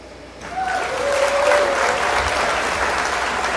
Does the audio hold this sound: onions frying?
no